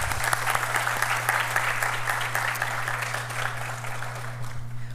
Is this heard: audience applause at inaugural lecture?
yes